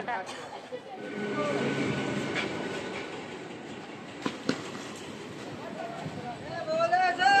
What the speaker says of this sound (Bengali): ট্রেনটা চলে এসছে, দেখতে পাচ্ছ